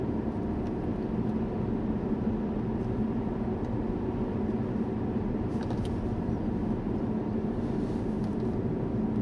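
Interior drone of a 2010 SAAB 9-5 Aero Turbo6 XWD engine cruising in 4th gear at about 1200 RPM near 43 km/h, a steady low rumble mixed with road noise, constant and unchanging throughout.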